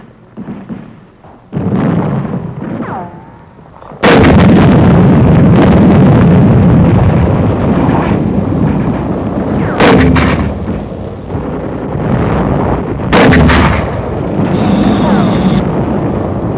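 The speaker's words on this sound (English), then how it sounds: "Mortar crew gets ready for action." Mortar fire in WWII Pacific combat against Japanese forces: heavy, booming blasts repeat loudly and up close over a continuous rumble of battle, with sharp reports standing out near the start and again partway through.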